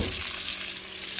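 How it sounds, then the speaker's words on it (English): Coronado hot dogs drop into a pan of hot butter and a little oil, raising a soft, continuous frying hiss that stays quiet and even for a brief moment. "my hot dogs, Coronado dogs, into my pan to get it frying them up"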